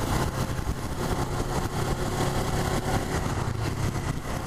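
A Suzuki GSX250R motorcycle engine drones continuously while being ridden, a loud, close, steady hum with a slight pulsing texture and no speech.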